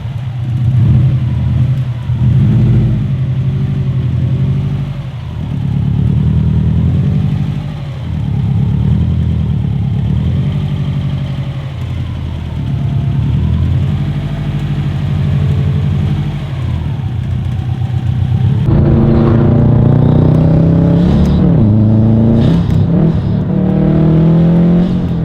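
A Subaru Impreza WRX STI with a Group N transmission mount drones steadily while driving, its engine note rising and falling, then revs harder near the end, loud and close with no talk.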